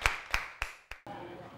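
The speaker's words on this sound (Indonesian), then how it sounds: "Mari kita berikan aplaus atau tepuk tangan untuk Fajar dari kelompok 5 dan juga kelompok 7" In a high school classroom, a few sharp claps ring out in a slow, evenly spaced sequence, four distinct hits close to the microphone before the room falls to quiet murmuring.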